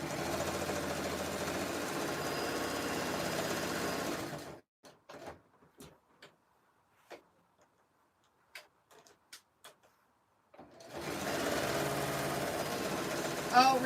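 An old clunker sewing machine stitching a jelly roll rug runs with a steady mechanical whir and rapid needle chatter, stops for several seconds of scattered clicks and handling noises, then starts stitching again.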